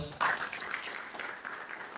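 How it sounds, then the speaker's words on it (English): A crowd at a youth forum applauds a panel with a dense, steady patter of clapping that swells briefly and holds for a couple of seconds in a large room. "Last round of applause to our panel."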